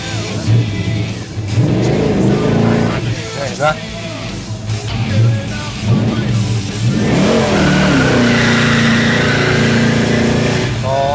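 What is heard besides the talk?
car launching with tire burnout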